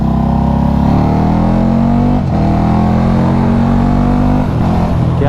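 Two-cylinder KTM RC8 superbike engine revving loud and close, a steady rising roar with two brief dips where the throttle snaps, exhaust crackle mixed into the drone.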